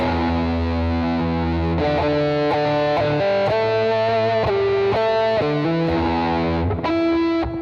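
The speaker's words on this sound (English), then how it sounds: "This is just like a far away reverb." An electric guitar runs through a multi-effects pedal set to a distant, washed-out reverb, its distorted sustained notes and chords changing every second or so and ringing continuously without any talking.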